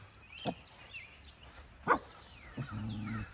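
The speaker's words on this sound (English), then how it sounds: "What are we barking at, George?" A dog barks a few times at a distance, short separate woofs spaced apart, with a longer low growly sound near the end amid quiet outdoor background.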